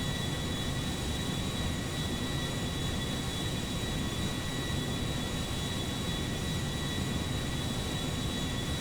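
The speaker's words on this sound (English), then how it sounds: "We're going to be cleared for takeoff here." A Boeing 787 Dreamliner in GTA V rolls for takeoff, with a dense, steady jet engine roar and broadband rush that holds constant throughout, with no talk over it.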